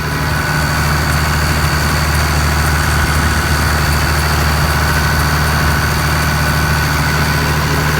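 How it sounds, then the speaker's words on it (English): A tractor engine idles loudly and steadily nearby, a deep continuous rumble with a constant mechanical hum and no pauses. "A lot of guys like how this tractor sounds."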